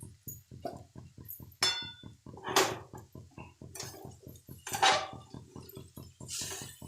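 Onion poha being stirred and mixed in a metal kadhai, a steady run of close, rhythmic spoon scrapes and light metallic clinks against the pan, with a few louder chinks along the way.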